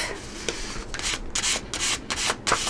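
An old plastic gift card scrapes paint across a gel printing plate, giving close, repeated rasping strokes of rough scratchy rubbing, each pass a short burst with brief pauses between.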